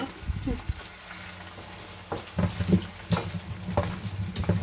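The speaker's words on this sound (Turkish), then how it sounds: "Ben de burada etleri harmanlıyorum" Meat sizzles in a pan on a home stove while being tossed and stirred, with bursts of scraping and clattering at an irregular rhythm, close and fairly loud.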